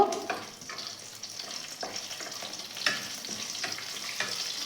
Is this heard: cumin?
yes